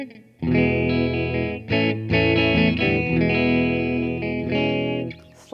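Line 6 Catalyst CX 100 amplifier playing a clean guitar tone with spring reverb, sustained ringing chords and notes with a brief pause mid-phrase, loud and alone without talk.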